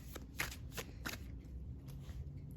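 A black-and-white Bianco Nero tarot deck is shuffled up close, a series of quiet riffling bursts in an uneven rhythm over low room hum, with no talking.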